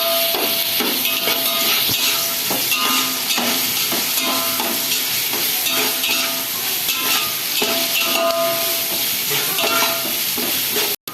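Onions frying in oil for a Nellore-style chicken dum biryani, a steady loud sizzle with repeated scraping and clinking of a spatula stirring in the pan, continuous throughout.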